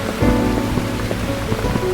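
Steady rain falls in the video game Burnhouse Lane, a dense continuous patter with low rumbling underneath and faint musical tones mixed in, constant throughout with no voices.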